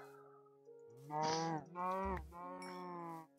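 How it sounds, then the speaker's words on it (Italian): A cow in the Minecraft FTB mod pack moos three times in quick succession, drawn-out, low, buzzy lowing calls close by with no talk. "Una mucca, ciao mucca."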